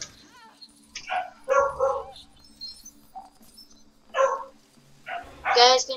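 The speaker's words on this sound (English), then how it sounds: "You guys can hear my dog barking," A dog barks in short, sharp bursts, several separate barks spread through the six seconds at medium distance, mixed in among a person talking and game sounds.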